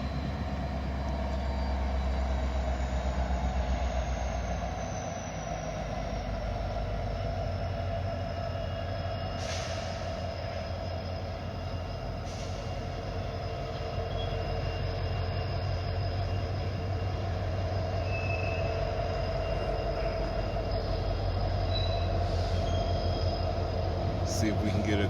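Illinois Central and CN locomotives pull a train past, a continuous low diesel rumble with steady rolling rail noise and faint wheel squeals throughout, moderately distant.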